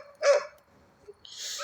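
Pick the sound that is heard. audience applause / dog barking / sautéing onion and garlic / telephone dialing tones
dog barking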